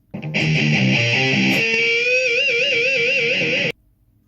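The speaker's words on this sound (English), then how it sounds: "pinched harmonics make the world turn round" A distorted electric guitar plays a few quick notes, then holds a squealing high harmonic with wide vibrato before cutting off abruptly.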